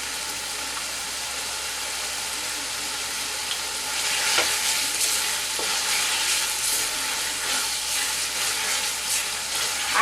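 Masala for shahi paneer sautéing in a pan over a medium gas flame, a steady loud sizzle with stirring scrapes and occasional clinks, no voices.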